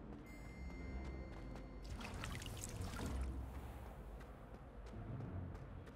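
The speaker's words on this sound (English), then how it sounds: "Why do I always hear water sound there?" Water in the Hogwarts Legacy video game: a soft, continuous pouring and trickling sound, quiet and steady, with faint footsteps or movement layered on top.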